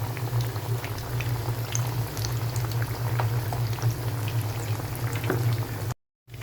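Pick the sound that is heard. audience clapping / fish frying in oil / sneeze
fish frying in oil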